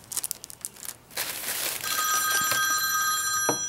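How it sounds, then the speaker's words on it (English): A phone goes off with a steady electronic ring tone that starts mid-clip and sustains, following a stretch of crinkling and rustling handling noise close by, with no voices. "Oh no, and then my phone had to go off."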